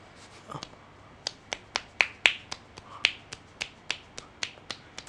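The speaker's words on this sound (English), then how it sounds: "that's the noise of my two fingers clapping together" A run of sharp finger snaps made by two fingers clapping together, about fourteen crisp clicks in an uneven rhythm, close and distinct with no talking.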